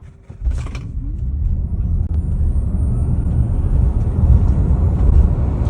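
Tesla Model Y Performance electric car accelerating hard: after a brief click, a steady low rumble of road and tyre noise swells and holds loud and close for several seconds, with no talk.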